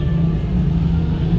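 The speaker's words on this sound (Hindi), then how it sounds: "ये देखो हमारे ही रोड पे ट्रैफिक जाम।" Steady low rumble of idling and creeping vehicles stuck in a morning school-time traffic jam on a local road, close and continuous with no talk.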